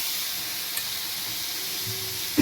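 Spice paste with cumin, coriander powder, salt and tomato sizzles steadily in a pan, a soft continuous hiss with a small spatter near the end.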